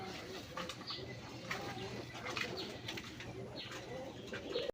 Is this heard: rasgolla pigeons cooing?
yes